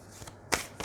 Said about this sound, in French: Je vais prendre une carte de ce jeu.